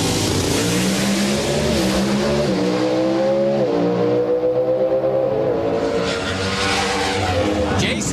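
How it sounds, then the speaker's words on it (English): Pro Stock drag racing cars launch down the strip at the 2005 Gatornationals. Their engines give a loud, close roar that climbs in pitch through repeated gear changes over several seconds. "Jason Line was first off the line and first to the stripe"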